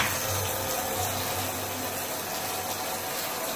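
Hot water pours steadily from a newly installed bronze faucet, a continuous hiss and splash with no talking.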